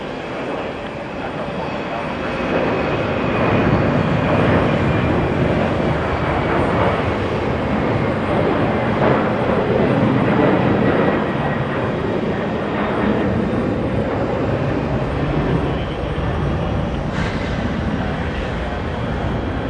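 Delta Airlines jet at JFK airport, a broad steady engine roar building after a couple of seconds and holding loud and continuous, with a faint voice in the background.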